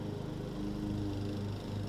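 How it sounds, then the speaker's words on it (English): A riding lawn mower driven by a young boy cuts grass, its engine humming steadily at moderate distance without voices. "My little boy mowing grass."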